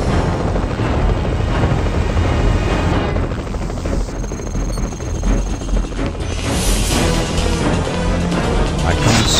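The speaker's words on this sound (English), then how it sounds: "A helicopter and several guard units have been scrambled to the crash location." Helicopter in the PC video game X2: Wolverine's Revenge, a continuous loud rotor drone mixed with game effects, steady for the whole stretch.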